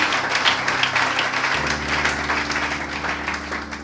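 A church congregation applauds the Lord, steady moderate clapping from many hands over sustained keyboard chords that change partway through.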